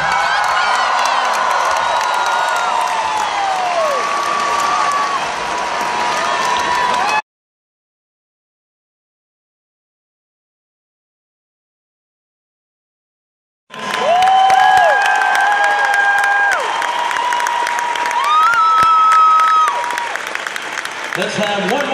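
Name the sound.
applause and cheering of basketball crowd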